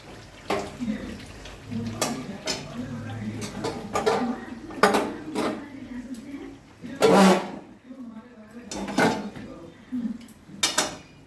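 Poppy seed chicken curry being poured and scraped out of a cooking pot, with repeated clanking and scraping of metal on metal in short bursts, moderately close, while someone talks over it.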